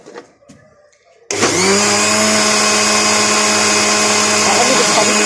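An electric mixer beating sugar into chocolate cake batter switches on after a short quiet moment and runs as a loud, steady, close motor whine with a constant pitch.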